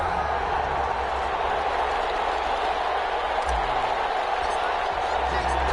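Steady stadium crowd murmur before a Green Bay Packers versus Detroit Lions NFL game in an EA Sports football video game, a constant dense roar filling the clip with no distinct cheers.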